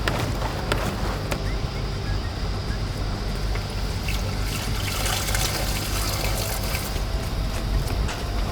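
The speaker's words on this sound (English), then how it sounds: "I'm sitting here waiting for my freshwater tank to fill" Water runs steadily from a potable water hookup into a camper van's freshwater tank, a continuous close trickle and gush with a faint low rumble underneath, no talking.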